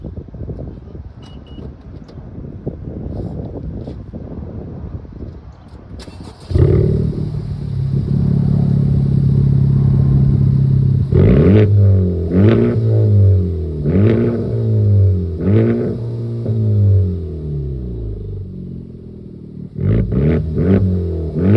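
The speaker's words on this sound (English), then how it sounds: "Rev up a little bit." Motorcycle engine revs in a series of rising and falling bursts, loud and close, after a steady idle rumble, with a final quick run of revs at the end.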